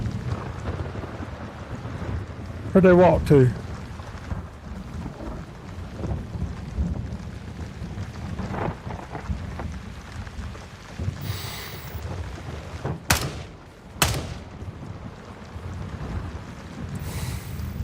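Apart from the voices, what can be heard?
thunderstorm in video game Gray Zone Warfare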